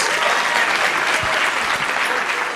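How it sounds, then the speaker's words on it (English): Audience applause for Year 1 students at a school festival event, steady dense clapping filling the whole stretch, loud and close with no break. "Can we give them a round of applause?"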